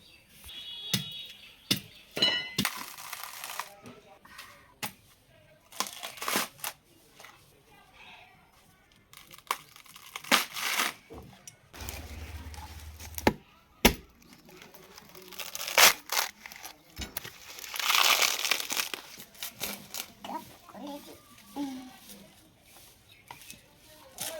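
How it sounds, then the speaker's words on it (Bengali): A coconut having its husk peeled by hand gives repeated tearing and crackling rips in irregular bursts, close by, interleaved with stretches of talk. "এখন এই নারকেলটা প্রথমে ছাড়িয়ে নেব"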